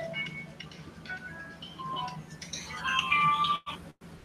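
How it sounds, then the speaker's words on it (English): A mobile phone rings with a tinkling electronic melody of repeating tones in a garage, moderately faint over room noise, and cuts off abruptly near the end. "That would be my phone."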